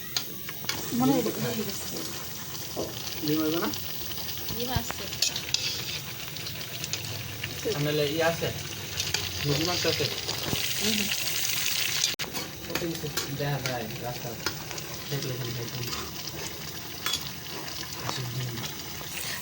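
Beans, cauliflower, cabbage and potato simmering in a pot of water make a continuous bubbling, sizzling wash, while a person talks intermittently over it throughout.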